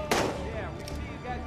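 Gunfire in the open-world game Days Gone: one sharp close shot rings out and echoes away, followed by a faint distant pop beneath a low ambient rumble.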